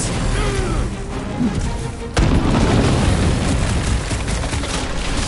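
A big explosion booms in the Guardians of the Galaxy video game on PS5, a sudden heavy blast partway through, with rumbling debris and combat noise before and after.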